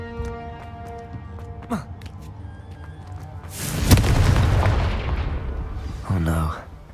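A Confringo fire-blast spell explodes in the Hogwarts Legacy video game: a loud burst midway with a rumbling, crackling tail, then a second sharp burst near the end over steady game ambience.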